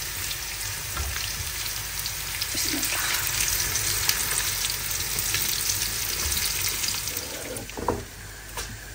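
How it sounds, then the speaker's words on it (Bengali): Hilsa fish frying in a pan, a steady dense sizzle and crackle of hot oil running throughout with occasional louder spits and stirring, no talk. "এই যে এখানে হচ্ছে ইলিশ মাছ ভাজা হয়ে গেছে"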